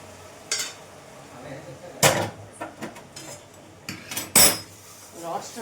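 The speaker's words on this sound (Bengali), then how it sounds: "সমানে নাড়তে হবে যাতে না তলায় লেগে যায়" A spatula stirs frying food in a metal pan with sauce just added, giving irregular clanks and scrapes of varying loudness over a faint background sizzle.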